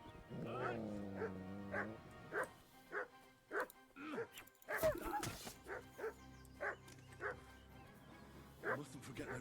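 A dog in the medieval game Kingdom Come: Deliverance II whimpers and yips after being hit, a series of short high whines and yelps repeated rhythmically, with someone talking over part of it.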